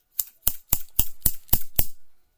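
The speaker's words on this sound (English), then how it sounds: "There's a pair of scissors, but I check if they're looking." A pair of very big, sharp scissors snaps shut seven times in an even, quick rhythm, each cut crisp and close, with no talking.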